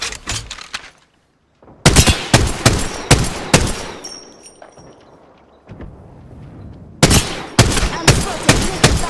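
Weapon fire in the Apex Legends battle royale, rapid bursts of loud automatic gunshots in clusters, a brief pause with faint ambient effects, then another close, intense volley.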